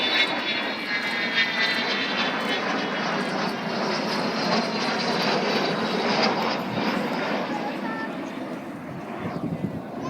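The Avro Vulcan XH558 jet bomber flies a display at RAF Cosford in 2013, its engines producing a sustained, powerful roar that swells and fades slightly over ten seconds, with faint voices under it.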